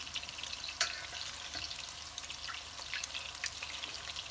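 Souzoukakia meatballs frying in a pan give off a steady, quiet sizzle with scattered small pops and crackles throughout, no voices.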